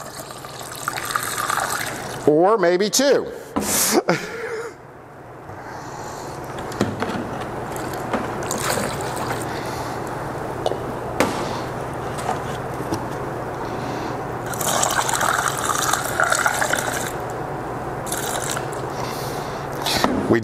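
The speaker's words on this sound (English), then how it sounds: "I'm just going to pour it all into one sanitized jar." Washed beer yeast slurry is poured into a sanitized jar, giving gushing, trickling liquid sounds with glassy clinks and handling noises at the start; a voice briefly speaks a few words.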